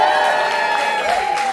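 A live audience claps and cheers at a comedy Q&A event, steady dense applause with scattered whoops filling the whole moment, loud and close, with no talking over it.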